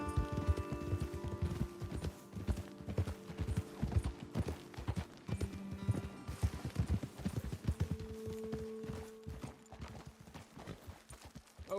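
Horses clip-clop along a trail in the video game Red Dead Redemption 2, a continuous rhythmic patter of hooves with faint creaking tack and a low musical drone, fairly quiet.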